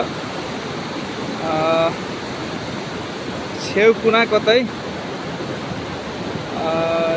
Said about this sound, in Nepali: यति ठुलो भएको छन् आज कालीगण्डकी नदी